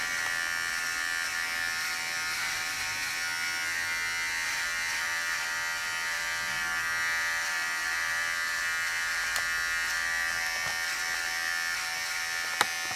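Freestyle hair clipper trims a client's hair during a barber cut, a steady, close electric buzz that holds throughout with a few small clicks and no talk.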